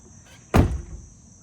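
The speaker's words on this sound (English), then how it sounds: "We're gonna do the final shut on the door." Door of a 2008 Ford F450 Super Duty truck shut after repair, one solid close-range thud with a short rattle that fades quickly against a quiet background.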